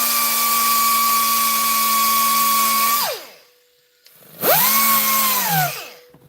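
Handheld grinder sanding off marks left by a sanding pad on a custom e-bike hub: a loud, high motor whine runs steadily, spins down and stops, then revs briefly again and winds down a second time.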